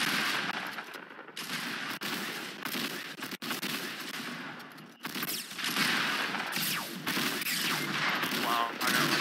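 Video game gunfire, including shotgun blasts, cracks out in scattered bursts over a noisy firefight, with people talking excitedly through it.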